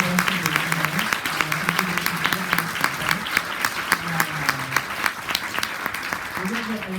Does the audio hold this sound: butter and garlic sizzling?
no